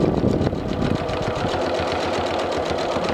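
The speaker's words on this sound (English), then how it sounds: "And then I'm going to sew again about 1/2 inch from that first seam." A sewing machine runs steadily while stitching a second seam on a fabric ring sling, a fast even mechanical whirr with rhythmic needle ticking, close and loud, with no talk.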